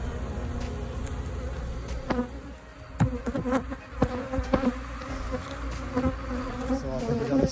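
Honeybees buzz steadily around a yard of beehives being split for queen cells, a dense continuous hum close by with a few louder bees passing near, and no talk.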